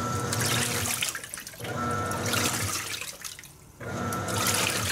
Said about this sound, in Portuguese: Panasonic 18 quilos iniciou agora o segundo enxágue